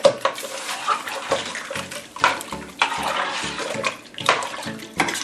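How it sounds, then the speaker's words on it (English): Milk poured from a gallon jug into a soup pot while making chowder: a loud, continuous gushing pour with irregular glugs, close by and alone. "So I'm going to pour about 2/3 of a gallon in there"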